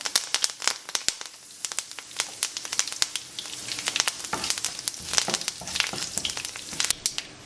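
Curry leaves crackle and spit as they drop into a frying tamarind and green chili mixture, bursts of sharp close sizzling pops over a steady hiss, with no talking.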